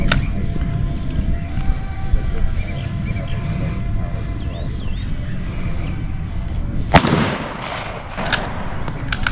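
A bolt-action rifle firing a custom-fitted round lets out a single loud, sharp crack late on, followed by a brief ringing echo, after a stretch of low rumbling background noise.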